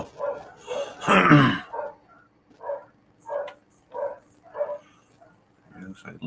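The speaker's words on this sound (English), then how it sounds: "the dogs are going off" Several dogs bark in a run of short, evenly spaced, moderately loud barks, heard after a stretch of speech and a louder burst of sound.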